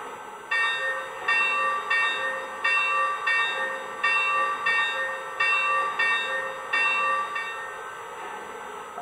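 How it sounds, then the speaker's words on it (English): A Lionel Legacy Milwaukee Road S3 Northern #261 model steam locomotive rings its bell in a steady series of about ten evenly spaced clangs, close and clear with no voices. "let's take a listen to the bell here."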